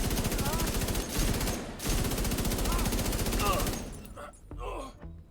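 Sustained, rapid Negev machine gun fire from The Division 2 rattles loudly in dense bursts, with a brief pause before trailing off into scattered game sounds and a short voice at the end.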